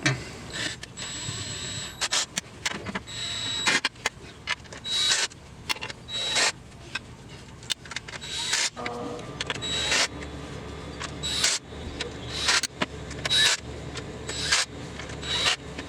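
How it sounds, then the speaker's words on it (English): A power drill on its lowest, weakest setting tightens bolts in a crisscross pattern on a Ford truck's magnesium transmission case, giving repeated short whirring and rasping bursts separated by brief pauses. "I'm going to put my drill on the lowest settings, the weakest settings"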